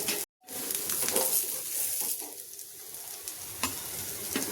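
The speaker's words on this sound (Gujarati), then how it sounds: "આપણી પેટીસ સરસ એવી શેકાઈ ગઈ છે" Farali patties fry in a pan with a steady, close sizzle, crisp at the top end, and brief stirring or turning sounds come and go, with no voices.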